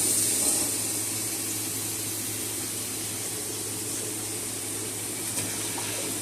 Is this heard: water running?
yes